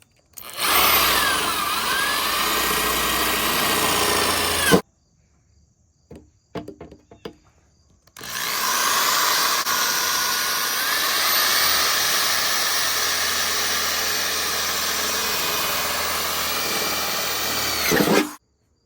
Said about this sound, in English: I drilled some 5/8" holes so you can see the wires will go right in, no problem.